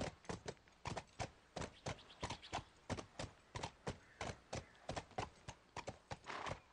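Horse hooves in the PS3 video game The Last of Us: a brisk, evenly paced clip-clop of crisp, distinct hoof strikes, moderately quiet and heard alone.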